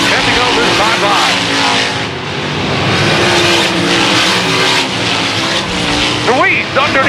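Several race cars in a late-race battle for the lead roar past together, their engines droning and rising close and loud without a break while an announcer talks over them.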